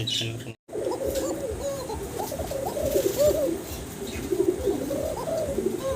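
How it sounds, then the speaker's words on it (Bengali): A pair of pigeons coos continuously at close range, the soft rolling calls overlapping steadily with other birds faintly in the background, broken only by a brief silent gap near the start. "দর্শক ককার ডাক শুনলেন খুবই অ্যাক্টিভ একটা পেয়ার"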